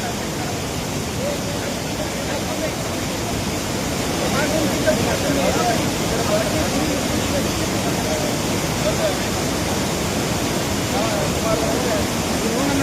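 Floodwater rushes after heavy rain near Yallapura, making a loud, continuous roar of churning water that grows slightly stronger midway, while people talk faintly beneath it.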